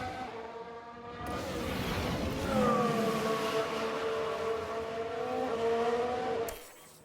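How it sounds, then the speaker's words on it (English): Single-car crash in the F1 Manager 22 racing game: a sustained, high engine whine that rises and bends in pitch like a howling car passing, fairly loud and steady for about six seconds before cutting out abruptly. "There's been a crash. Sounds like a single car."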